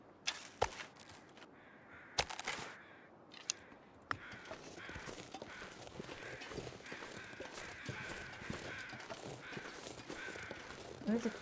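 Crows cawing in The Long Dark survival game, several sharp caws near the start, then fainter wind-swept ambience with occasional clicks and a voice talking.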